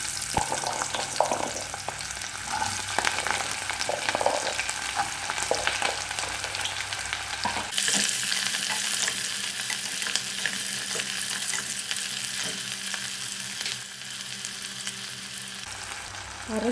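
Cinnamon, fennel, fenugreek and onion fry in sesame oil inside a pressure cooker for Chettinad country chicken gravy. A steady close sizzle carries throughout, with intermittent stirring scrapes, and the tone shifts brighter midway as more goes in. No voices.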